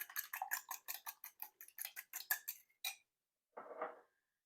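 A utensil whisking milk into buckwheat pancake batter in a jar, a quick run of sharp rhythmic taps and clinks, then a pause and a short scraping stir, close and fairly quiet with no talking.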